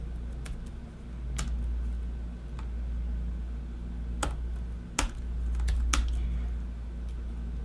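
Typing on a computer keyboard while entering a batch-file command, sparse individual key clicks and a few sharper taps scattered over a steady low hum, near and fairly quiet.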